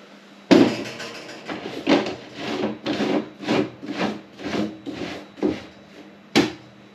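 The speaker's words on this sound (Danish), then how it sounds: "at få låget skruet på" A lid being screwed onto a wooden feed barrel, repeated scraping, rubbing turns of wood on wood in a steady rhythm of about a dozen strokes, close and fairly loud with no talk.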